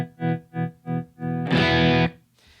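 An electric guitar played through a volume pedal on an HD500 effects unit, four swelling chord pulses followed by a louder distorted sustained chord that cuts off, near and without talk.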